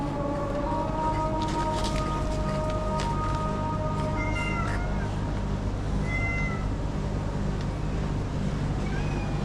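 Several street cats meow repeatedly, near and far, over a constant background of traffic-like rumble and outdoor noise.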